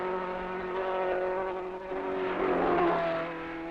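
Formula One race cars of the 1960s, a lone Ferrari among them, sweep past during a race, their high whining engines droning in layered tones that swell and shift as they go by.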